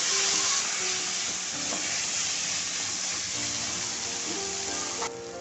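Fish sizzles steadily in a hot pan while being stirred together with mashed boiled potato, turmeric, red chilli and coriander powder; a continuous loud frying hiss with soft scraping, no voices.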